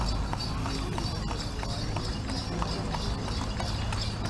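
Hooves of a horse-drawn carriage taxi clip-clop through Pyin Oo Lwin in upper Myanmar, a steady, close, rhythmic trot over constant road and wheel noise.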